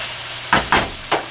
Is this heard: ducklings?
no